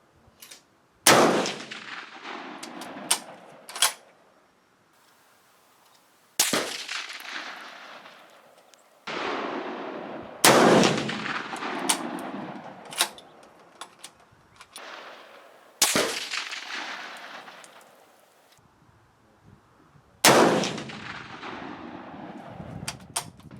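Loud single shots from a National Match M1A rifle with iron sights, about five sharp reports at irregular intervals outdoors, each followed by a decaying echo, with quiet gaps between them.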